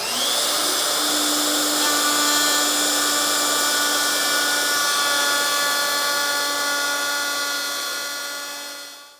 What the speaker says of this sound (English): I'm just using a 1/2 inch slot cutter bit, and I have it centered, and I'm going to do it in a couple of passes